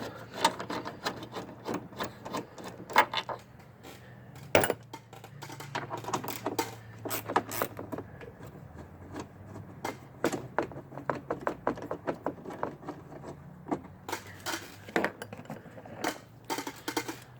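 A quarter-inch ratchet on an extension loosens a 13 mm bracket bolt during a battery replacement on a GMC Sierra, Silverado, Tahoe or Yukon: fast, close clicking bursts in repeated runs with short pauses, and no talking.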